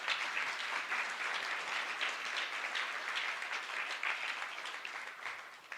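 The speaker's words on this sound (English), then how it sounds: "Now you can give them one big round of applause." A room full of attendees at an annual general meeting gives a sustained round of applause, an even, faint-to-moderate patter of many hands continuing for several seconds.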